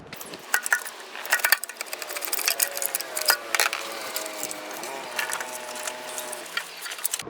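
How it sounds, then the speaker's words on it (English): A pry bar works an alternator out of a 2005 Toyota Camry, giving irregular metallic clanks, scrapes and taps with brief pauses, close by and moderately loud. "Removing the alternator with the pry bar, you gotta kind of like pry it out."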